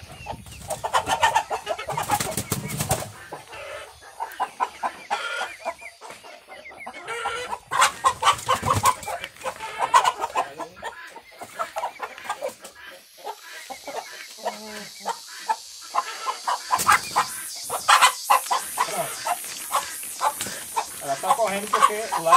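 Chickens on a farm, including a black giant breed, cluck and squawk in repeated bursts, with close clucks and more distant calls, while a person talks at intervals over them.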